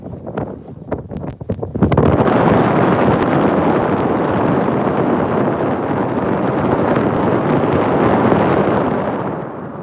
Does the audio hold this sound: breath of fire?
no